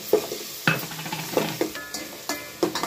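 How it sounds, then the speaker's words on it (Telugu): Onions and green chilli paste are stirred in a sizzling pan, with a spoon scraping and clinking against the metal in regular strokes roughly every half second over a soft, continuous frying hiss. "ఇక పచ్చిమిరపకాయల పేస్ట్ అయితే వేసేసుకొని ఇక ఒకసారి బాగా కలిపేసుకుందాం."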